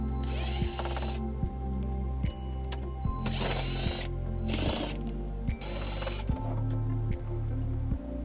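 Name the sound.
removing screws with a Phillips bit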